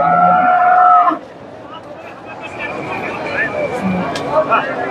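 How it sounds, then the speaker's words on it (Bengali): A cow lets out a loud, drawn-out moo at the start of a cattle market, then a busy outdoor crowd of buyers and sellers murmurs in the background. "এখানে একটা গাভী দেখতেছি সুন্দর একটা গাভী"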